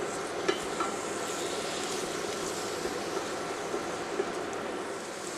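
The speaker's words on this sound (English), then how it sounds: "Stir well and saute for approximately" Shrimp creole sauce with chopped cilantro sautés in a pan, giving a continuous low sizzle with occasional faint clicks of a utensil against the pan.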